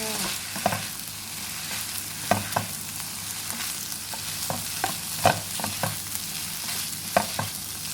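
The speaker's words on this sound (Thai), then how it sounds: "ใส่น้ำพริก น้ำพริกกะปินะคะ แล้วก็ใส่ลงไปเลยนะคะ ก็คนให้เข้ากันค่ะ" Sator beans, minced pork and shrimp paste chili stir-fry in a wok with a steady crackling sizzle, punctuated by frequent sharp clinks and scrapes of the spatula, close and without talk.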